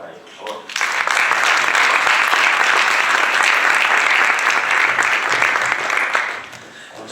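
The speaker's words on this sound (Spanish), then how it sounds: "Un aplauso para ellos, por favor." Audience at a history lecture applauding the speakers, a full, steady round of clapping rising quickly after a brief moment of talk and tapering off near the end.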